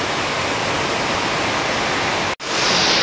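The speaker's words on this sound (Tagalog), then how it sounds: "Malakas ng ulan." Heavy rain pours down steadily as a dense, loud, unbroken wash that cuts out for a split second and then resumes just as strong.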